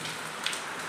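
Steady rain falls outdoors, a soft continuous hiss of drops on surfaces with one slightly sharper patter midway, close and even throughout with no voices.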